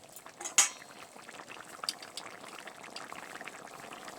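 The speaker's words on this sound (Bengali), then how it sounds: "1 চামচের মতো ঘি দিয়ে দিচ্ছি।" Ghee added to mixed winter vegetables in a pot, with a faint bubbling simmer, a sharp clink of a spoon on the vessel, then light stirring scrapes, quiet and close with no talk.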